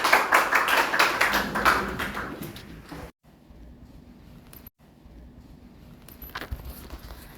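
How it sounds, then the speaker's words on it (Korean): A church congregation at a Korean Sunday service claps together in a short burst of applause that fades out after about three seconds, leaving a quiet room with a few faint taps. "하나님께 영광의 박수 돌리겠습니다."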